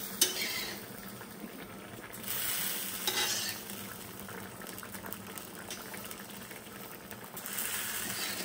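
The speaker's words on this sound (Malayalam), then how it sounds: "നമ്മൾ നേരത്തെ വറുത്ത് വെച്ച ഒരു തേങ്ങോടി ഇതിനകത്തേക്ക് ചേർക്കുവാണ്" Yam erissery curry bubbles and sizzles in a pan as fried grated coconut is stirred in, with soft scraping stirs and wet simmering noise continuing throughout, close and moderately quiet.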